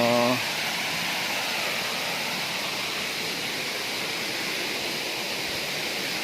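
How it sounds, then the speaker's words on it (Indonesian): Curug Cisurian waterfall and its flowing stream roar as a steady, dense wash of rushing water, close and constant, with a brief voice at the very start. "Ini sebenarnya curugnya nih"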